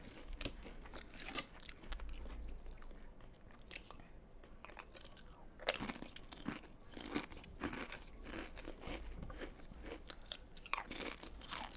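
Pringles crisps being bitten and chewed up close, a series of sharp crunches followed by rapid crackly chewing that comes in bursts and continues throughout.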